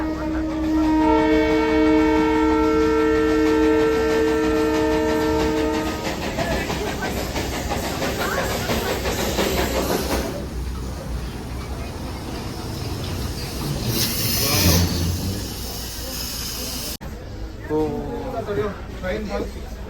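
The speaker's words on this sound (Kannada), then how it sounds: "ಇದು ಟಾಯ್ ಟ್ರೈನ್" Darjeeling toy train on its narrow-gauge line, giving a long sustained horn blast followed by rumbling and clattering running noise; people talk nearby.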